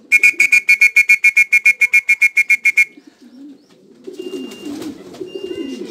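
Pigeons in a loft, a loud close run of rhythmic cooing pulses for about three seconds, then quieter rustling and scattered bird sounds.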